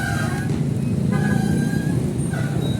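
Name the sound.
cars passing on a busy road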